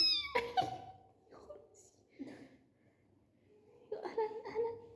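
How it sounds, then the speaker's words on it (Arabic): A cat at a mosque meows several times, loud and close, with short cries spread across the stretch while people talk and laugh nearby. "قطة المسجد"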